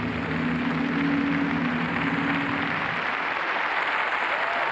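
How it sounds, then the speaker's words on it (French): An arena audience applauds a Romanian gymnast after her floor routine at the 2004 Swiss Cup, a steady distant wash of clapping with a low hum running under the first part. "Très, très applaudi, la Roumaine."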